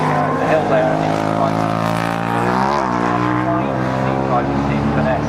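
Race cars run at Cadwell Park circuit, engines droning loud and close with a pitch shift as one passes, while a commentator talks over the noise.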